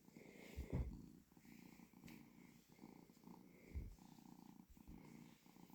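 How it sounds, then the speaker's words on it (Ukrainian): Soft, steady purring of a cat up close, a low rhythmic rumble rising and falling with each breath. "при тому, що він мурчить"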